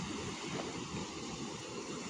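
Ocean waves washing over a rocky shore at La Pointe au Sel in Saint-Leu, Réunion, heard as a steady broad surf roar mixed with wind buffeting the microphone, with no voices.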